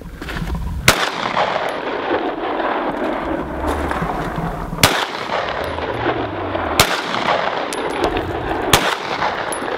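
Heavy, booming gunfire in a video game, with sharp shots every couple of seconds over a constant dense rumble of battle noise, loud and close, with no speech.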